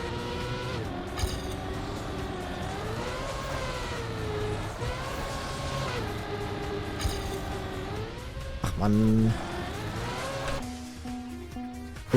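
A car accelerating in the racing video game Trackmania, its engine tone rising and falling through repeated sweeps, loud and continuous under background music, ending in a brief burst.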